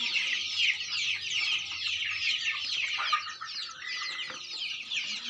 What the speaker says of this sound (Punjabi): ਪਿਓਰ ਦੇਸੀ ਚੂਚਾ